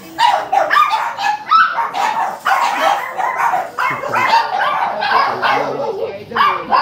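Several dogs bark and yip close by in a busy, overlapping burst, sharp repeated barks mixed with whimpers, continuing without pause across the whole stretch.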